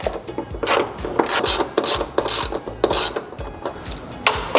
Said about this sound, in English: I'm gonna fully remove this upper bolt. And then this lower bolt, I'm just gonna back it out about 1/2 inch.